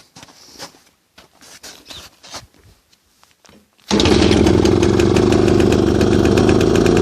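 A Pannonia motorcycle engine, started after winter on fresh petrol, catches abruptly after a few seconds of faint handling noises and settles into a loud, steady, close idle with a fast, even putter.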